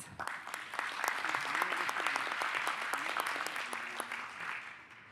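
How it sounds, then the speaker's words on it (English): An audience applauds a roundtable panel with steady, moderately loud clapping that continues for several seconds before tapering off. "A big clap to this panel, please."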